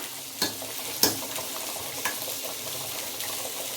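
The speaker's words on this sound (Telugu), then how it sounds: "ఒకవైపు వేగింది ఇప్పుడు తిప్పాను అనమాట ఇటువైపు కింద వైపు కూడా వేపిన తర్వాత" Fish frying in a pan for a fish curry, with a steady soft sizzle and a few sharp clinks or scrapes as pieces are turned over; no talking.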